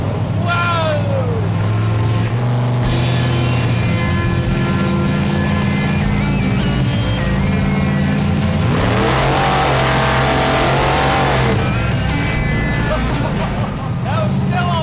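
A 440 Studebaker gasser engine revs hard, the pitch sweeping up and down through repeated high-RPM pulls, loud and close with people shouting excitedly between blasts.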